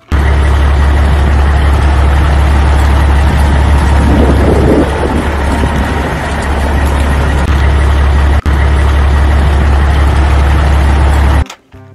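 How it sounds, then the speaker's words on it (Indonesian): An Indonesian garbage truck rumbles steadily and loudly for about eleven seconds, its heavy low engine drone constant with a brief swell of mechanical noise midway, then it cuts off abruptly at the end. "Ada mobil truk sampah."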